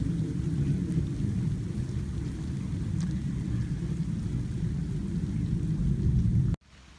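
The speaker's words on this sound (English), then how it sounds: "So it started raining on us." Steady rain pours down in a dense, even wash of noise, loud and close, with no voices, until it cuts off abruptly near the end.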